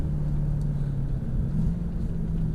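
A Mercedes-Benz C63 AMG with a 5.5 litre bi-turbo engine running on track, heard as a steady low engine rumble from inside the car, continuous and fairly loud with no talk.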